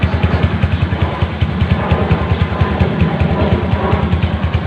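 A freshly overhauled Bajaj Kawasaki 100 motorcycle, rebuilt after an engine leak, idles close by with a loud, even, rapid thumping beat that holds steady throughout.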